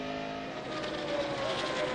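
Race trucks roar around the oval track at the 2002 Inside Traxx 300, with a steady, loud engine drone and a commentator talking over it.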